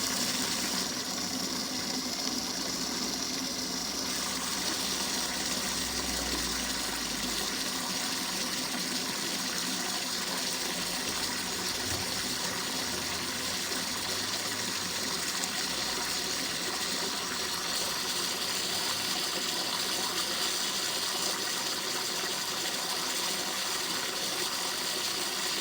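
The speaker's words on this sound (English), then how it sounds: "I'll just top up now the water." Water running steadily into a caravan's onboard fresh-water tank as it is topped up near full, a continuous close gushing fill with no talk throughout.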